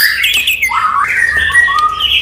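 A white-rumped shama sings at a bird market, loud and close, with clear rising and falling whistled phrases and sharp chirps in quick succession.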